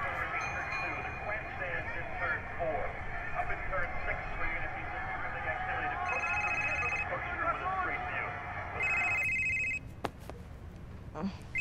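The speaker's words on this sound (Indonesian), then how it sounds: "Oke, ada telepon pula." A telephone rings in the video game Beyond Two Souls, two short bursts of electronic ringing over a busy game soundscape with background music, while a voice talks over it.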